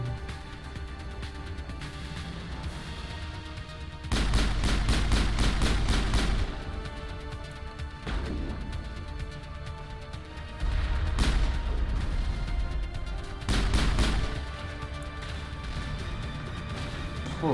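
Pistol gunfire in the video game Mass Effect comes in loud bursts of rapid sharp shots separated by quieter stretches of ambient game sound.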